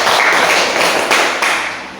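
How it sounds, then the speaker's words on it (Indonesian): A classroom of students claps together for a classmate, a short, loud, close burst of dense clapping with a couple of accented swells before it fades. "minta tepuk tangan dulu untuk Naila"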